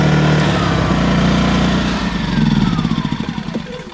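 Small $25 Lowes portable generator engine switched into turbo mode climbs from a steady idle to a higher, louder, buzzing rev, its pitch sweeping upward over the last couple of seconds, close by.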